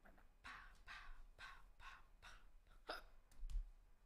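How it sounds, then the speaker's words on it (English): Hiccups, a series of about six sharp, evenly spaced hiccup bursts heard close and fairly quiet, with a thump near the end. "Hiccups."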